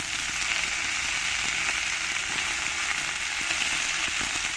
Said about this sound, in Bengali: রসুনটা যখন এরকম লাল লাল করে ভাজা হয়ে যাবে